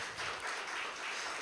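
A church congregation claps for God, giving a dense, even wash of many hands clapping together in a brief, moderately distant burst.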